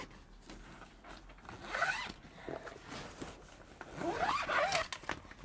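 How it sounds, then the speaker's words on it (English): A canvas window zipper on a Northstar 650SC truck camper is drawn down in two quick, close rasping pulls separated by a brief pause, fairly quiet overall. "That you can zip down like so."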